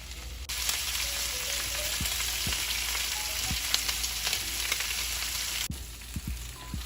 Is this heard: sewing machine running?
no